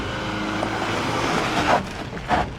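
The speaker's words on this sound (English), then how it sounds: "Look at it, it's binding up. It wants to go, watch how fast it goes." A GWM Tank 500 engine holds loud and steady against launch control in a car park, a thick continuous drone with two short rev surges near the end.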